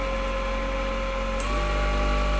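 A slip ring induction motor runs steadily at around 2600 RPM with a constant tonal hum and a deep low drone. The pitch shifts slightly partway through, with a brief faint click.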